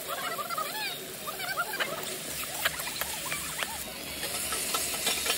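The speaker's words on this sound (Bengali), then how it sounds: "পেঁয়াজ কুচি, এটা সুন্দর করে ভেজে নেবে একটু।" Chopped onions, with some chopped tomato, fry in a pan with a busy crackling sizzle full of tiny pops, steady and close throughout, with no talk.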